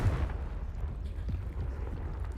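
A Confringo fire spell bursting in Hogwarts Legacy, heavy low booming impacts rumbling under continuous game ambience, with a couple of distinct thuds.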